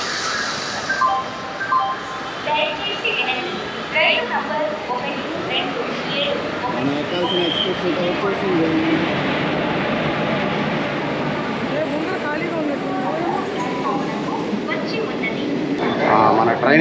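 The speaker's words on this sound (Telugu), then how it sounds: "మన ట్రైన్ అయితే వచ్చేసింది." A train pulls into a railway station under construction on a journey from Nellore toward Dharmasthala, giving a broad, sustained rumble and clatter while people talk nearby.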